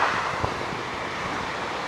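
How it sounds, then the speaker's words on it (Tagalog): Steady wind roars and buffets the microphone, a dense continuous rush like blowing rain during a typhoon at a small farm, with no clear pauses. "Mahangin kasi yung anggi niya."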